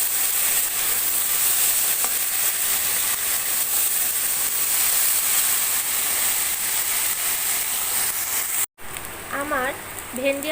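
Okra, potatoes and torn green chillies fry in a pan with a loud, continuous close sizzle; after a brief cut near the end, a voice speaks over a quieter sizzle.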